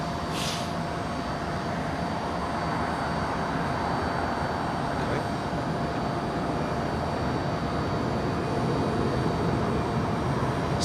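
A Saudi Arabian Airlines airliner on runway 27L at London Heathrow gives off a continuous, steady jet engine roar at moderate distance, with a faint high whine riding above the broad rumble.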